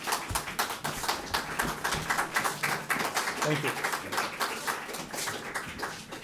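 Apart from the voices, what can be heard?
audience applause for lecture speaker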